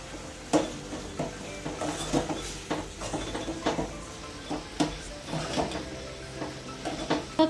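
Spoon stirring sprouts curry with coriander powder and garam masala in a pan, a steady run of scraping strokes with small clinks over a soft sizzle, close and moderately loud, no voices.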